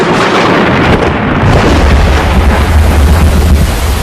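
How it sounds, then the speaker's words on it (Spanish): A short, intense desert thunderstorm in Arizona unleashes loud, deep rumbling thunder that swells and rolls on continuously, close and heavy, with no voices. "La lluvia en el desierto de Arizona aparece en forma de tormentas cortas pero muy intensas."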